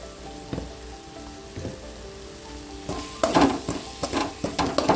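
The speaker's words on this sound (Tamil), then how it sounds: "சிம்மில் வச்சு நல்லா பச்சை வாசமாக வணக்கிங்க" Bitter gourd with turmeric and asafoetida sautéing in a pan gives a soft continuous sizzle, broken by louder bursts of scraping and stirring that grow more frequent toward the end, with no talking.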